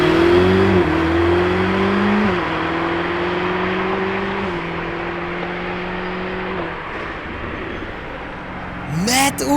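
A Lamborghini Urus SE accelerates past, its loud engine note climbing in stepped gear changes before a sharp rising whoosh as it goes by at the end.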